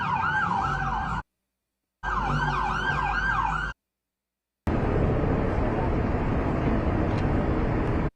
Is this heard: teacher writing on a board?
no